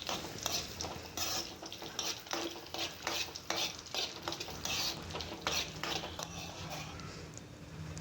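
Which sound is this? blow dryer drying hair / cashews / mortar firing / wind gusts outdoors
cashews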